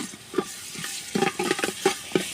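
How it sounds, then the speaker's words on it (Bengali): Chopped tomato drops into biryani masala frying in a pot on a village clay stove, bringing a soft sizzle with a series of quick stirring clicks and scrapes. "কাটা টমেটোটা দিয়ে দেব"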